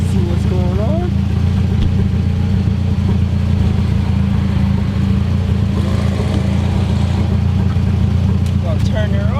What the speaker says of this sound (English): That's my custom exhaust right there.